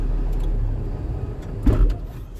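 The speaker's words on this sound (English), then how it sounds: "I will turn my truck off" A truck engine shuts off during a pre-trip check in a cab. A low steady idle rumble fades, and a short mechanical clunk and shudder follow near the end, close up with no voices.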